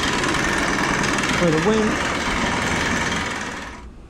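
A Yamaha Blaster engine fitted with new Boyesen dual-stage reeds idles steadily and close, a busy mechanical buzz that runs under a brief spoken remark and fades near the end.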